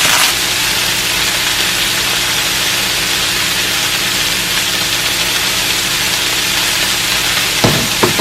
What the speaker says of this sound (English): This pan heating up for the sausages.